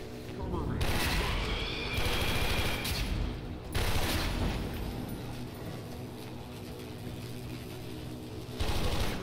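Rapid gunfire bursts from the shooter game Warframe, in a Volt versus Rhino match, rattle loudly and repeatedly while someone talks over the action.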